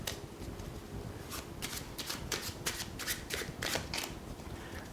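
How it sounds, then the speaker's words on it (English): A deck of playing cards shuffled at close range gives a rapid run of crisp riffling bursts, steady and rhythmic, with no voices. "I'm going to give it a shuffle"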